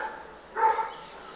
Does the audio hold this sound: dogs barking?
yes